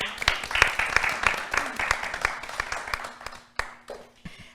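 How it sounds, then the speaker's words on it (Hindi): An audience welcomes guest Shahla Jafri on a brunch talk show with applause, a burst of scattered claps that thins and fades toward the end, with voices mixed in. "आने से पहले उनके लिए ज़ोरदार तालियां बजाइएगा"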